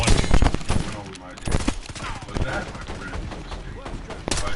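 Shotgun blasts and other gunfire burst through a Call of Duty: Black Ops 6 multiplayer match, several sharp loud shots with game noise around them.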